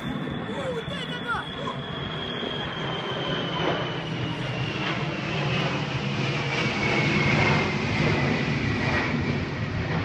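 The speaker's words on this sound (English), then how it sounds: "Ukrainian military planes shoot flares into the sky above Donetsk." Ukrainian military planes fly over Donetsk near the airport while firing flares, a loud continuous roaring jet drone with a slowly shifting whine that swells toward the end amid dense outdoor noise.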